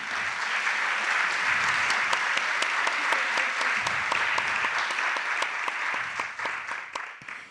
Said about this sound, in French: Caterina Vermette, qu'on peut applaudir